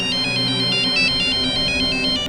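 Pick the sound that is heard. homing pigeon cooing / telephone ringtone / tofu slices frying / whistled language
telephone ringtone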